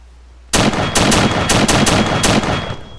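Automatic gunfire in the video game Arma 3 during a cooperative insurgency mission: a sudden loud burst of rapid shots starting after a quiet moment, continuing in clustered volleys for about two and a half seconds, close and harsh.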